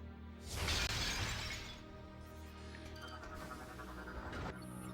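A pane of glass bursts apart from a blast in Metroid Prime 3: Corruption, one loud crisp shatter followed by a shimmering tail of falling shards over a low ambient hum.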